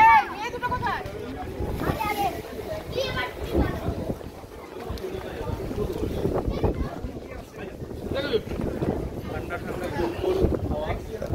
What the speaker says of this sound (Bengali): আপনারা শব্দ তো পাবেন এই হাওয়ার শব্দ